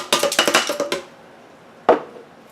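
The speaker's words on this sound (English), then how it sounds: "go ahead and dump your ice into the blender" Ice cubes dumped into a blender jar for a chocolate strawberry protein shake, a dense clattering rattle lasting about a second, followed by one sharp knock a moment later, close and fairly loud.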